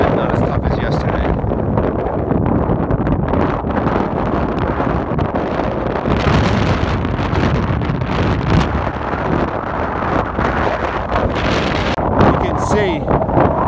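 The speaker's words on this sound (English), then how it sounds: "It's like gusts of 50 miles an hour" Fierce wind gusts around 50 miles an hour roar across the Mount Washington summit, buffeting the microphone in continuous loud surges while a hiker talks intermittently.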